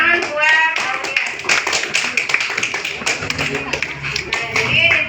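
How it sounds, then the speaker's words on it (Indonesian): Pupils in an elementary school classroom clap for a classmate, a burst of scattered, uneven hand claps that goes on for several seconds and stays moderately loud. "Ya, tepuk tangan buat Aulia."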